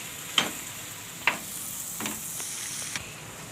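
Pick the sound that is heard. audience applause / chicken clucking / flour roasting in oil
flour roasting in oil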